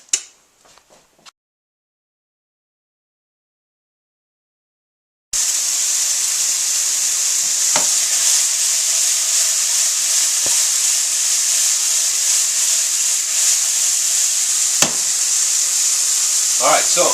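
Risotto sizzles in a pan while being stirred: after several seconds of near silence, a loud, steady frying hiss starts abruptly and continues, with occasional soft knocks from the spoon.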